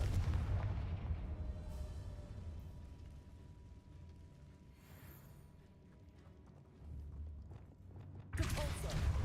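Confringo fire spell explosion in the video game Hogwarts Legacy: a heavy booming blast at the start, a rumbling low background with mechanical clicks, and a second loud burst near the end.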